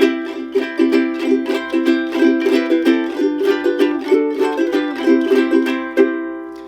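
A ukulele plays the opening eight bars of a piece alone, a steady stream of bright plucked notes and chords with a lively, even rhythm at close range.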